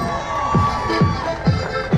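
A crowd at a street show on a boardwalk cheers and shouts in loud, rhythmic bursts about every half second, close and energetic.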